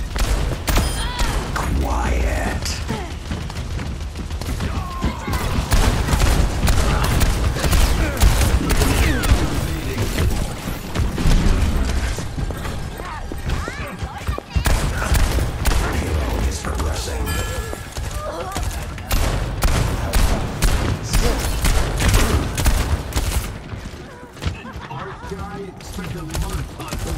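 Rapid gunfire from a match in the video game Overwatch 2, a dense run of sharp shots in bursts, near and loud throughout, with voices talking over it.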